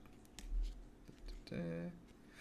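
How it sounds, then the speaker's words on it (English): A deck of character cards is shuffled at a tabletop game session, making soft papery riffling and clicking for about a second before a voice comes in. "I'll draw a character card to see who you summon. Shuffle it up."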